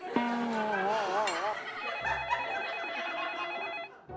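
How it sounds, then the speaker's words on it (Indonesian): A telephone rings with steady electronic trills in a comic indoor scene, loud and repeating through the whole stretch, with a brief low engine-like rumble beneath it near the middle. "Bos, ada telepon tuh."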